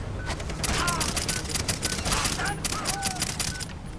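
Rapid bursts of gunfire crackle in quick succession, dense and loud, mixed with other game-like effects.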